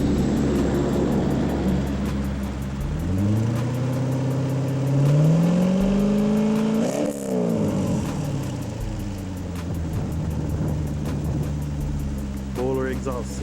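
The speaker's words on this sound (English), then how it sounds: "listen to this sweet exhaust note." Chevrolet Corvette with a boiler exhaust system, the engine droning at a steady deep idle before rising in several swelling revs and falling back, loud and close throughout.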